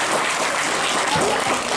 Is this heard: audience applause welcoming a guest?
yes